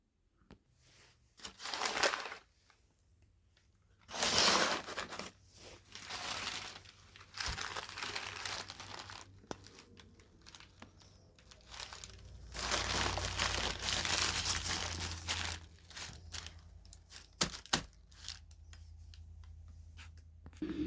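Treats are packed up with crinkling wrappers and plastic, rustling and crushing in irregular close bursts with quieter handling pauses between them, no talking.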